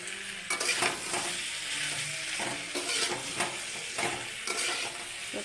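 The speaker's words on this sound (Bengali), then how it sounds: "গ্যাসটারে লোতে রেখে ভাজতেছি, যাতে ভালো করে ভাজা হয়।" Fish head and taro (kachurmukhi) frying in oil over low gas make a steady close sizzle, broken by repeated scraping and stirring strokes of a spatula against the pan.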